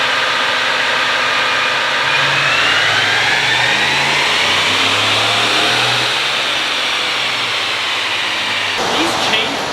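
A stock Ford F150 V8 with a 10-speed transmission makes a dyno pull. The engine revs loud and close in one long rising sweep, then cuts off abruptly near the end.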